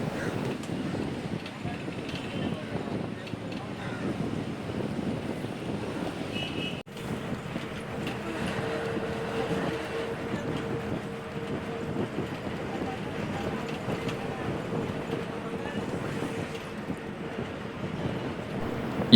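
A passenger train runs steadily along the Tirunelveli–Thisayanvilai line through small villages, giving a continuous rumbling, windy rush from inside the coach, with a voice talking over it.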